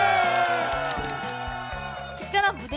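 Studio audience at a K-pop show cheers and shouts over a loud pounding music track, with a brief spike of yelling near the end.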